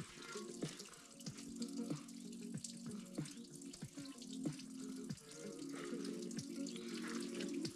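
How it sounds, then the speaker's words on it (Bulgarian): Water pours steadily from a repaired drinking fountain, a continuous splashing rush broken by small irregular clicks and knocks. "Понравена чешма."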